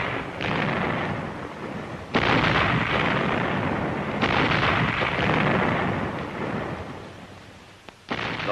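A Marine artillery regiment, 5th Marine Division on Iwo Jima in 1945, fires a synchronized barrage: dense rolling booms blend into a continuous roar, with two sharp surges in loudness marking fresh volleys, no voices.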